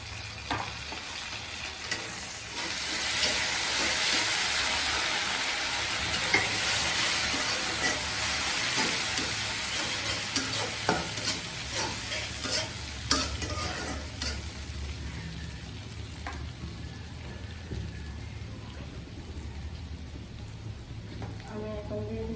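Garlic paste sizzles in hot oil in a pan for an egg and brinjal curry, a dense, close hiss with scattered stirring clicks that eases slightly toward the end.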